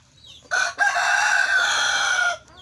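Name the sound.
chickens clucking and rooster crowing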